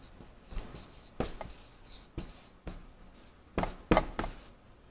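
Handwriting an address on paper, a series of short pen strokes and scratches in uneven bursts, close and fairly clear, with no talking.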